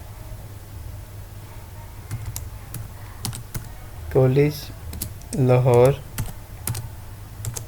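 Keystrokes on a computer keyboard while text is entered into an Excel spreadsheet: scattered, light clicks spread across the clip over a low steady hum, with two short bursts of speech near the end.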